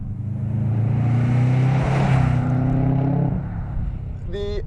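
A 1998 MY99 Subaru Impreza WRX turbo engine pulls hard, a loud, close, sustained drone rising in pitch as it revs, then fading into a faint whine near the end.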